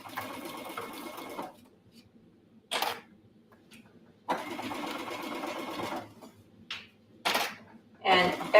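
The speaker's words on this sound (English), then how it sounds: "Okay, and sewing around the final curve." A sewing machine stitches around the final curve of a cross-body bag in several close bursts of steady, fast mechanical whirring, separated by short pauses and brief handling noises.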